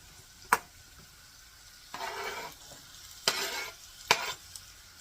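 Onions sautéing in a pan for macaroni and tomatoes: a low background sizzle broken by several short bursts of stirring and scraping, each lasting about a second, close by and with no voices.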